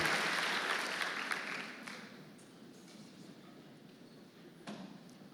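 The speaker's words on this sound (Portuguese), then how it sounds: "Vamos aplaudir Jesus por essa história linda, gente." A church congregation applauds, loud dense clapping at first that quickly thins and fades to scattered claps in a reverberant hall.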